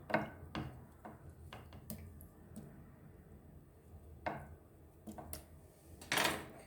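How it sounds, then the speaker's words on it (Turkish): A knife cutting homemade kashar cheese on a board, making scattered sharp taps and short scrapes at an uneven pace, fairly close and quiet between strokes. "Kaşarımızı da doğruyoruz."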